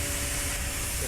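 A Roblox train game's steam locomotive vents steam through its drain, giving a dense, steady hiss that fills the short moment without any break or talk.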